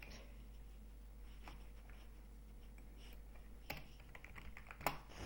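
Quiet keystrokes typing a web address on a computer keyboard, a few soft taps then a louder cluster of clicks near the end over low room hum.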